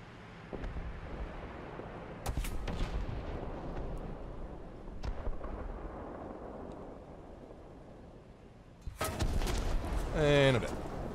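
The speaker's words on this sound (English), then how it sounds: "Someone shooting from behind." Tank gunfire in a war video game: several sharp distant shots crack out over rumbling wind, then a loud blast near the end with a falling ricochet whine; a voice talks through it.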